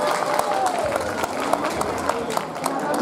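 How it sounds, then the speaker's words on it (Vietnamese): Audience at a school performance of Vietnamese tân cổ giao duyên singing clapping in a dense, continuous patter, with a voice speaking over it. "Quý vị cho chị Tôn Nguyệt cho anh nhau một tràng pháo tay thiệt lớn nha."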